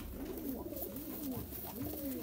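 Dub wala breed pigeons from home breeder pairs coo in repeated rolling phrases, several overlapping calls, close and steady with a low background hum.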